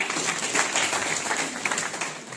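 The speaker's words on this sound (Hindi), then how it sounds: "आओ, तालियां बजाओ इनके लिए" Audience applause for a volunteer at a network marketing seminar, a steady wash of clapping from a room of people at moderate loudness, with no voice over it.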